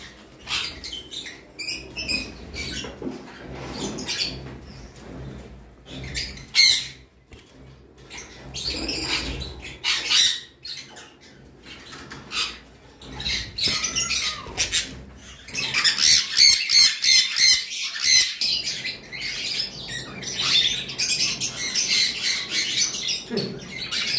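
A caged pet bird offered for sale gives repeated harsh squawks and chattering calls in irregular bursts, some loud and close, others fainter, with occasional wing flutters and no talk.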